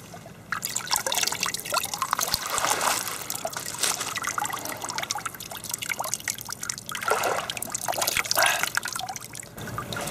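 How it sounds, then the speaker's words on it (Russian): Icy spring water trickles and drips steadily from a clear spring on the Volga riverbank, a continuous close babbling with no talking. "родники, которые выходят практически на самом берегу"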